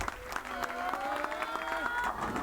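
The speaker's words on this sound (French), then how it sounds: "toutes les équipes applaudissent" Teams applaud during a bowling tournament in a lively alley, sharp scattered claps mixed with crowd noise under a commentator talking and tonal background sounds.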